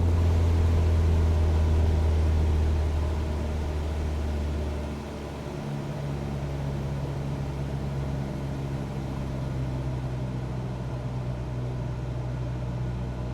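Single-engine Cessna 172 piston engine in a flight simulator, a steady drone that drops in pitch and eases slightly in loudness as it is throttled back to 1800 RPM, then holds a lower, even hum.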